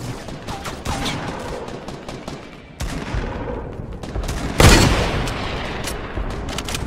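Video game gunfire crackles in dense bursts throughout, with a louder close volley near the end; no talking.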